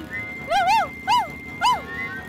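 A cartoon dog in a Motu Patlu comedy episode gives three rising-and-falling barks or yelps in quick succession, loud and close over a faint background.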